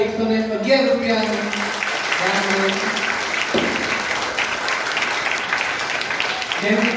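Audience applause at a prize distribution ceremony, a lively clatter of clapping that runs through the clip while someone speaks over it in bursts.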